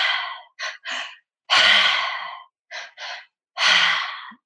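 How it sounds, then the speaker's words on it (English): Breathwork through the mouth in a triactive pattern, twice repeated: two short sharp inhales followed by one long, breathy exhale that fades out, close and clear with silence between breaths. "So this breath pattern is called the triactive breath."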